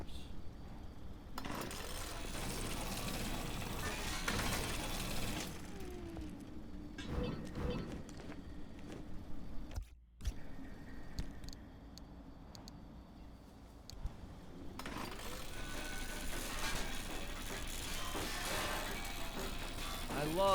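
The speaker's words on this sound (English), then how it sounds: "Scrap the abandoned car's wheels, panels, and doors." Metal wheels, panels and doors are pried off an abandoned car in Pacific Drive, giving a run of clanks, ratcheting clicks and scraping crunches at close range, with a brief quiet gap midway.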